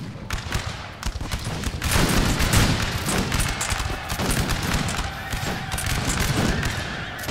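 Massed musket volleys from line infantry in a Napoleonic Total War battle, a dense ragged crackle of many shots rolling on continuously and fairly loud, with faint voices underneath.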